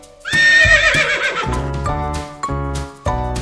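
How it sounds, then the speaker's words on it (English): A horse gives a loud, close whinny, followed by a few shorter snorting neighs. "horse,"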